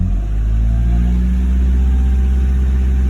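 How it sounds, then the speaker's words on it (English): A car engine held at raised revs around 2,000 RPM during a catalytic converter check, a loud continuous low rumble with a steady hum and no voices. "So let's rev it up a little bit and see."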